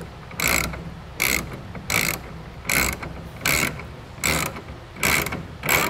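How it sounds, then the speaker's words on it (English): A hand ratchet with a 1/2 inch socket tightens the clamps of a hard tonneau cover onto the bed rails of a 2022 Nissan Frontier, giving eight evenly spaced, close, clicking strokes with short pauses between them and no talk. "you're going to use a 1/2 inch socket to tighten down those clamps around the rails"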